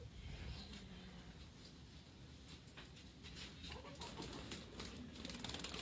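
Pigeons and chickens let out of their coop into a yard, with a steady mix of cooing, clucking and wing flaps at close range and no talking.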